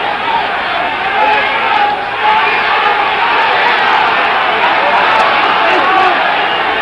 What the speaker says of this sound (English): the partisan German crowd is going wild